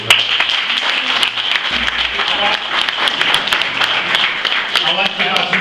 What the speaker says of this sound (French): Je voudrais, s'il vous plaît, qu'on applaudisse pour Awatal.